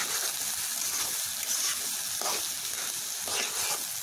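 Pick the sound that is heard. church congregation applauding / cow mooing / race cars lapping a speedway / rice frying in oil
rice frying in oil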